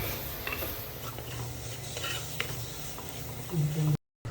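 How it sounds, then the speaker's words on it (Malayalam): Spice powders fry in hot oil for a Kerala sardine fish curry, a steady close sizzle with light stirring scrapes throughout, swelling slightly louder near the end before cutting off. "അപ്പോൾ ഇതാ പൊടികളൊക്കെ മൂത്ത് എണ്ണയൊക്കെ തെളിഞ്ഞ് തുടങ്ങിയിട്ടുണ്ട്."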